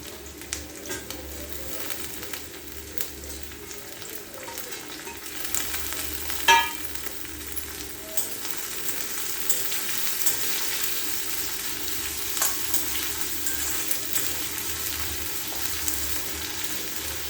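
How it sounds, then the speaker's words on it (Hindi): Onion, ginger and garlic fry in a pan in a home kitchen with a steady, soft sizzle and crackle. A few faint clinks of utensils sound through it, and no one talks. "बस अब प्याज जितना मैं चाहती थी उतना सिक गई है, तो अब हम इसमें डाल देंगे अदरक और लहसुन।"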